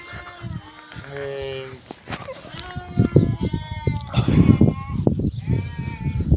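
Sheep bleat repeatedly at a farm on shearing day, several wavering calls close by and overlapping one another, with a person talking among them and some rustling movement.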